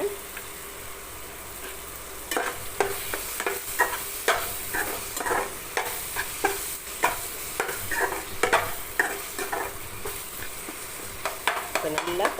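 Onions, garlic and tomato sautéing in a pan for egg gravy: a steady close sizzle runs throughout, broken by repeated scraping and clacking stirs that come in quick irregular bursts.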